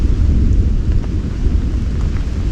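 Thunder rolls through a hot summer rainstorm, a loud deep rumble sustained over steady rain hiss, with no voices.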